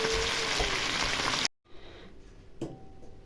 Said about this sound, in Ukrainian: смажиться картопля ще в мене